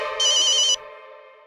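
A phone ringtone chirps once in a short electronic trill over a sustained musical tone that lingers and fades afterward.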